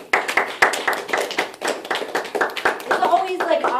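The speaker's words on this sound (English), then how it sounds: "It's always like awkward when people clap" An audience at a poetry reading claps after a poem, a fairly close patter of overlapping hand claps lasting several seconds with voices mixed in.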